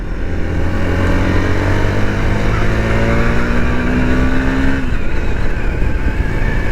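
A Hero Xpulse 200T 4V motorcycle with a 200cc oil-cooled engine pulls hard in third gear, its engine note climbing steadily and loud, then easing off briefly before building again under rushing wind.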